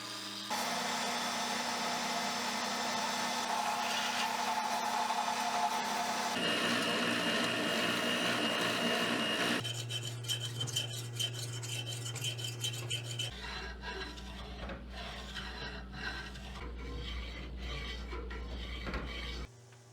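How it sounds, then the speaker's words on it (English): Sanders of different types work over the raw edges of a machete prop replica, giving a steady, loud mechanical whir that changes pitch and character several times as tools switch, continuous for about twenty seconds. "I will now use my different sanders to fix the raw edges and to make them a bit smoother"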